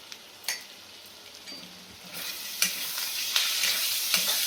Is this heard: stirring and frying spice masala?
yes